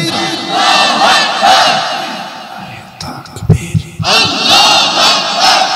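A large crowd roars a takbir slogan in unison at a religious gathering, loud bursts of massed voices broken by a short pause, then another collective shout.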